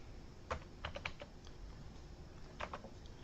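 Faint clicking keystrokes on a computer keyboard while a zip code is entered, arriving in two short bursts of quick taps with a quiet pause between.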